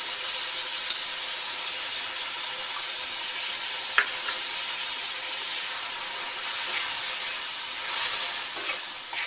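A steady, bright sizzle comes from seasoning paste of palm sugar and tamarind water frying in a pan for pindang salem fish. Faint scrapes and taps from stirring and flipping sound over it, close by and with no voices.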